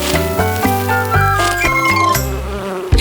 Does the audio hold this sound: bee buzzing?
yes